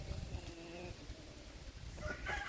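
Chickens at a hatchery clucking and calling in short bursts, close by, with occasional faint crowing-like calls over a low outdoor rumble.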